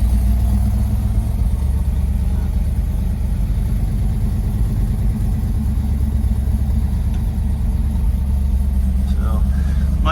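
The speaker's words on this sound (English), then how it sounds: "I turn off the blower motor. And should fire right up." Steady low engine rumble of a classic Ford, either a 1966 Ford F100 or a 1973 Mach 1 Mustang, running continuously and close by throughout with no break.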